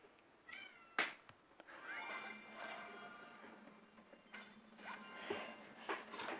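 A pet cat gives a few meows, one sharp near call then softer repeated mewing, clear against a quiet indoor background without speech.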